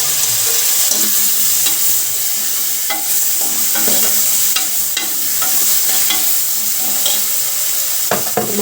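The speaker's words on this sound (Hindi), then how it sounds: "देख लीजिए मेरा मसाला अच्छे से पक चुका है। तो अब डालूंगी टमाटर" Masala fries loudly in a pan as tomatoes go in, with a strong, continuous sizzle broken by repeated stirring scrapes and clinks close by, no voices.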